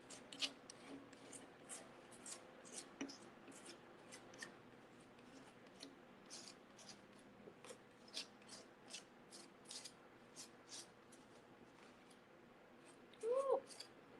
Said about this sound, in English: Start scraping.